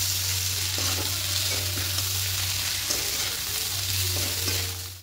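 Vegetables, ginger powder and salt sauté in a pan for mung dal, a steady close sizzle with intermittent stirring scrapes and an underlying low hum, no speech.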